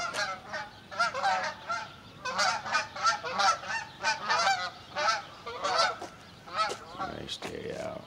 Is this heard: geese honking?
yes